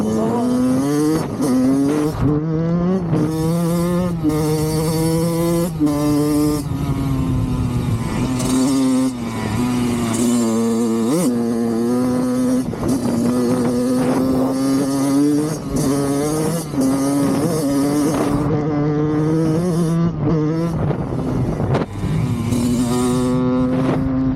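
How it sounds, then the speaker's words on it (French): A 2024 Kawasaki KX 85 dirt bike, a road-type bike ill-suited to the terrain, ridden on a trail, its two-stroke engine revving loudly and repeatedly up and down through gear changes close by, with no talk. "on est avec une moto pas du tout adaptée au terrain"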